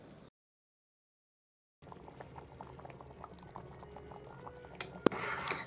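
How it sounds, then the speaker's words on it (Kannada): Karnataka-style boti gojju curry bubbling in a pot after water and ground spice paste are added, a steady close simmer with popping bubbles that grows a little louder toward the end after a brief silence. "ಅಷ್ಟು ನೀರು ಹಾಕ್ಬಿಟ್ಟು ಚೆನ್ನಾಗಿ ಕುದಿಸ್ಬೇಕು"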